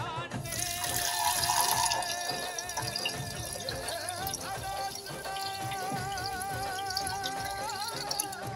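Water poured and run while making chai: the tea liquid is tipped out and fresh water added, giving a steady splashing, trickling flow with clinks, fairly close and continuous without any talk.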